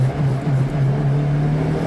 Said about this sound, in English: second gear just lights the tires